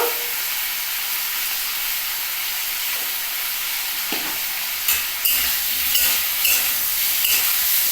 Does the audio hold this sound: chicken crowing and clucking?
no